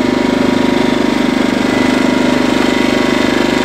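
A small compact generator idles steadily at close range, giving a loud, even mechanical drone with a fast regular pulse and no voices.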